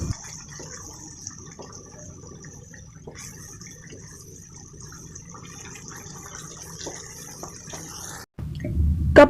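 Leftover water from a cup trickles into a curry of egg salan cooking on the stove, a thin steady pour over a faint hiss, ending with a louder clatter.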